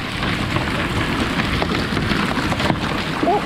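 Hail storm with heavy rain and strong wind, a dense, loud and steady roar of rain and gusts close to the microphone, with no talking.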